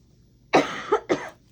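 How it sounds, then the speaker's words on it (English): Two short, sharp coughs in quick succession, close and fairly loud, against an otherwise quiet background. "Excuse my coughing."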